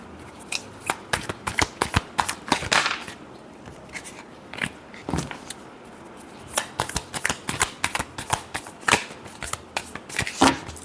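Tarot cards being shuffled by hand, a run of crisp riffling and tapping bursts with brief pauses, close and fairly loud, with no voices.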